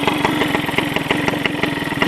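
Small moped engine idling unevenly nearby, its steady close pulsing rising and falling as the revs climb and drop without settling.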